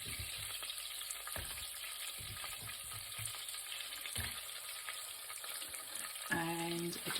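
Onion dropped into hot butter and oil with cumin seeds, frying in a pan with a steady close sizzle and scattered pops, ending in a brief tonal ring.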